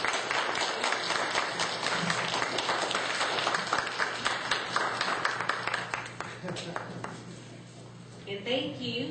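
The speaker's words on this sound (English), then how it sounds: "Let us give each of the candidates a round of applause." An audience at a county candidates forum applauds the local and state candidates, a steady crowd of clapping that fades toward the end as a voice begins speaking.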